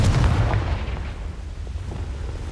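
A fire spell blast from the Hogwarts Legacy video game, a loud deep boom that swells at the start and rumbles on, fading slowly.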